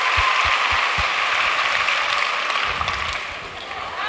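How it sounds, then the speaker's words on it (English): A concert audience at an Irish Christmas show applauds itself, a broad wash of clapping that holds steady and then thins out toward the end, with a few low thumps early on. "Give yourselves a round of applause for being so good."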